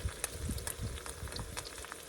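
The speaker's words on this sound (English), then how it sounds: "they're sizzling away nicely, spitting fat at me" Faint, steady sizzling of food frying in a pan at a car camp beside a Subaru Outback, with scattered crackles and pops of spitting fat.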